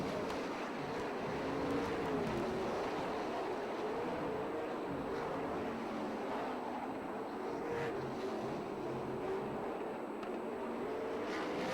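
Sprint cars racing on the dirt oval at Perris Auto Speedway, a steady, distant roar of several engines that rises and falls slightly as the pack circulates in heavy traffic.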